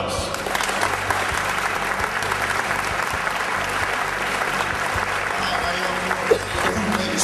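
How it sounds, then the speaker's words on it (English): An audience at an evening event applauds the MC with steady, dense clapping that holds at an even level throughout, moderately close, with no voices over it. "let's give a nice round of applause to our MC for this evening"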